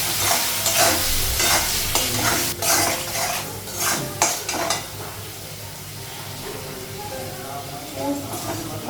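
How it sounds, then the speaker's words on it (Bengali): Ground cumin and coriander masala fries and is stirred for a rohu fish curry, a loud sizzle with rhythmic scraping of a spoon against the pot. "ভেজে নেবো মশলাটা।"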